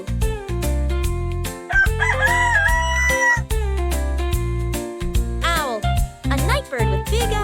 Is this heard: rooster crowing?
yes